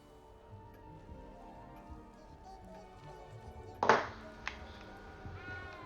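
A cat in the Hogwarts video game gives a single short, clear meow near the middle, over a quiet bed of game ambience and faint music, with no speech.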